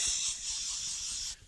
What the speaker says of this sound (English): I'm going to go ahead and spray all inside of this frame, inside the slide